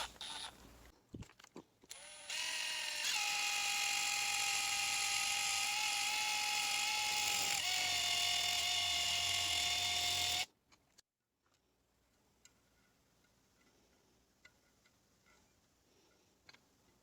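A small power tool cuts through a tape-wrapped bolt, a loud steady whine shifting pitch partway, running about eight seconds before stopping abruptly into near silence.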